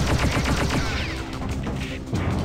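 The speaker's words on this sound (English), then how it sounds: "someone fired a missile at him" A missile launch in the space combat game Freelancer plays as a rapid rattling volley of repeated shots that settles into a steady whooshing hum, loud and continuous throughout.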